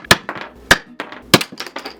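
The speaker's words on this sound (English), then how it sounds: "We're going to use this hammer, break this ice cube open, and hopefully not break the circuitry" A hammer strikes an ice cube that has a light-up wand's circuitry frozen inside, giving three sharp close knocks with brief cracking and clinking in between.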